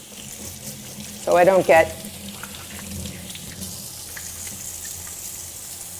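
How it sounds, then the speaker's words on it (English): Tap water runs steadily into a kitchen sink as hands are washed, a faint continuous rush under a brief spoken phrase. "I just want to wash my hands off real fast"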